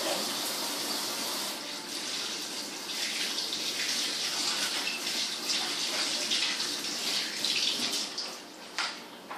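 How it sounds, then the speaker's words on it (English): Hands are washed under a steadily running tap in a sink, water splashing continuously and loudly at close range with small shifts in the flow, no talking. "While I'm washing my hands"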